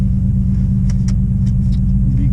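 A 2018 Dodge Challenger 392 Scat Pack V8 fitted with a BBK 90 mm throttle body idles with a steady, deep low rumble, heard from inside the car while driving around the block, with a few faint higher clicks over the drone.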